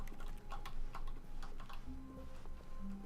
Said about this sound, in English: It makes like a computer clicking noise when you press E.